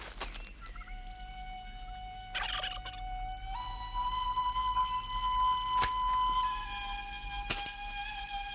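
A bird gobbles like a turkey in a fantasy film scene, giving sustained warbling tonal calls that shift pitch in steps, broken by a few sharp clicks, with no talking.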